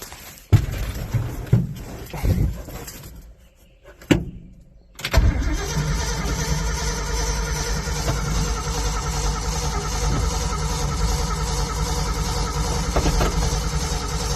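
A 1978 Ford F-250 engine cranks in several uneven bursts with pauses, then catches and settles into a steady, loud running rumble that holds for the rest of the clip.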